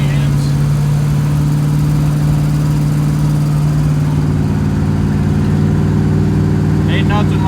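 A car engine holds a steady cruising RPM on a country drive, a loud continuous low drone with a constant hum running the whole way, no talk, a few faint ticks near the end.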